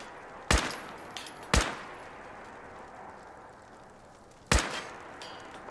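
Gunfire in Fallout 4 VR: three sharp, loud single shots, two about a second apart and a third after a three-second pause, each cracking close with a brief ringing tail over a quiet background.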